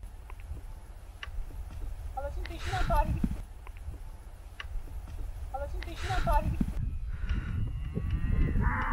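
Village cows grazing outdoors, with a few low moos rising and falling, tearing and shuffling sounds, and footsteps underneath, while people talk over them throughout.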